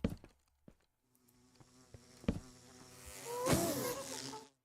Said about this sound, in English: And we got bees.